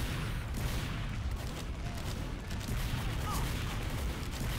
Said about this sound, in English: What shall we do about the sentry guns?